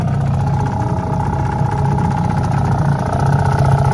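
A boat's outboard motor drones steadily and loudly nearby on a river at about five knots, a constant buzzing engine hum with no voices.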